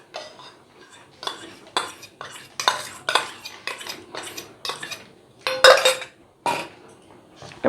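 Butter, salt and a spoonful of powdered sugar being mixed into flour for cream roll dough, heard as rhythmic, close scraping and clinking strokes of a utensil against a bowl.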